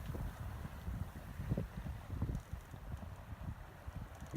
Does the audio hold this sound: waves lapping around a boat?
yes